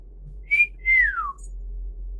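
A person whistles two short tones, a brief note followed by a longer one gliding downward, clear and close over a quiet low hum.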